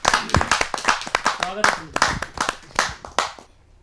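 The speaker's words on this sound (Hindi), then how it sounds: "जोरदार तालियों के साथ" Audience clapping at a Hindi poetry gathering, a dozen or so distinct, loud, close hand claps in an uneven rhythm, with a brief voice in the middle before the claps stop.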